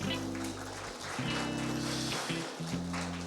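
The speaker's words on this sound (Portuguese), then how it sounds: "Uma salva de palmas para os nossos visitantes." Congregation at a church celebration service applauds its visitors, a dense wash of clapping over sustained music from the worship band, steady and full throughout.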